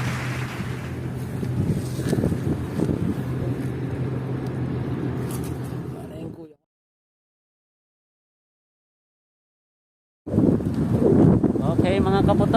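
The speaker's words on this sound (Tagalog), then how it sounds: "So hinananat na tayo ng malakas na hangin." Strong wind roars across the open sea around a small fishing boat in bad weather, a loud, blustery rumble buffeting the mic, with voices mixed in, cutting out to silence midway before returning just as forcefully.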